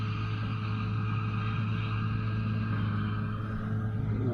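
Steady drone of a tractor engine running while cutting Potomac orchard grass hay, a constant low hum with tonal harmonics, even and unbroken throughout.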